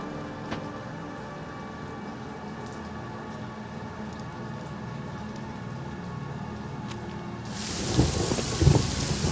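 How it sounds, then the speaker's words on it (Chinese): Rain falls steadily outside with a constant hiss, and a louder burst of noisy rain and rumble swells near the end; no one speaks. "外面下雨了"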